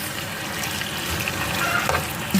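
Squid frying in a pot gives off a steady broadband sizzle, moderately loud and close, with a few brief clinks near the end and no voices.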